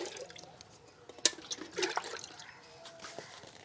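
Rice water mixed with plain water is poured onto vegetable plants, giving irregular close splashes and trickles that swell and fade in uneven bursts over a few seconds.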